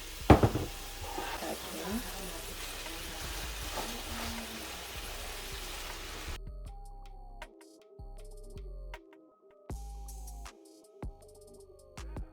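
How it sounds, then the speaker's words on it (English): Pak choi dropped into a hot pot and stirred, first a steady close sizzle with stirring scrapes and a sharp clatter at the start, then shifting to intermittent cut-up bursts over a soft music-like backdrop. "And now add in your pak choy"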